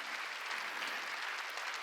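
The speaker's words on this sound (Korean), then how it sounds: "박수야." Congregation applauding during a Wednesday church service, a steady dense wash of clapping from many hands, fairly faint and continuous with no talk over it.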